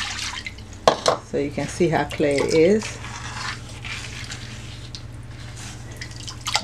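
Water trickles and drips into a Ghanaian earthenware clay mortar, light splashes heard briefly while someone talks over it, then a quieter background hum.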